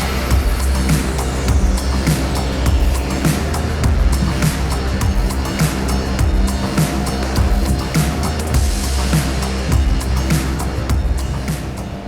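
A loud, continuous engine drone while riding a Can-Am Ryker 900 Rally three-wheeled motorcycle, closer to a car than a motorbike, with steady rumble and rushing wind noise, sustained throughout without pauses.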